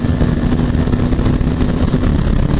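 A Honda CB 300R motorcycle running flat out on a highway during a top-end race, its engine a loud, steady, close drone with wind roar and no break.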